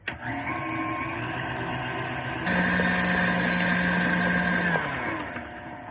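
An electric mixer whisking egg whites to stiff peaks for meringue cookies, a steady close motor whine that rises in pitch midway and then eases off.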